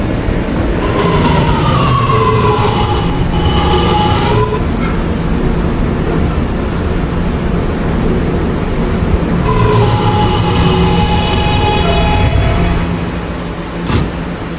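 An R211A subway train runs in Roblox PTA on an R line trip toward Ridgewood Island, with a steady loud rumble of cars rolling on rails and rising and falling motor whine throughout.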